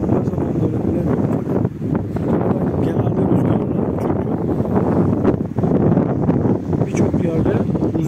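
Strong coastal wind at Gelibolu, Çanakkale, roars steadily across the microphone in a constant low buffeting rumble, with faint talking partly buried beneath it.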